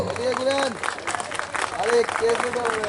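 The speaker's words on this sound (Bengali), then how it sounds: "সবার কাছ থেকে জোরে করতালি আশা করব" Audience clapping at a Sharad Samman autumn festival award ceremony in Ujjayanta Palace, a dense wash of applause under a loudspeaker voice talking across it.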